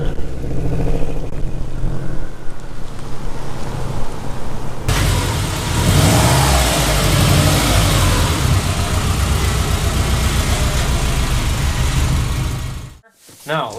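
A race car engine idles loudly and steadily at close range, then grows fuller and louder as the car rolls forward into a garage, and it cuts off abruptly near the end.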